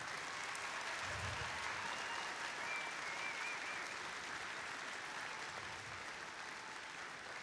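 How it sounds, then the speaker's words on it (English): Audience applause for longtime volunteers at the opening ceremony of a district championship; a broad, distant wash of clapping from a large crowd, steady and fairly faint, with a couple of low thumps. "let's give them all a round of applause real quick"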